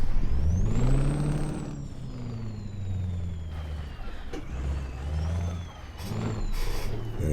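A heavy truck in Euro Truck Simulator 2 maneuvers in reverse, its low diesel engine droning and shifting pitch, with rising and falling whines and brief hissy bursts over the rumble.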